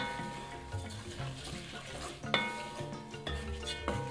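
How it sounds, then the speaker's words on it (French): Rice and lentils are stirred into kitchari in a pot with a spoon, soft scraping and clinking strokes over a low simmering sizzle, with a couple of sharper knocks near the middle and end. "On mélange."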